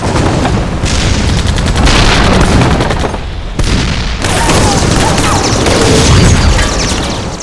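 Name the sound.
tanks firing at point-blank range in battle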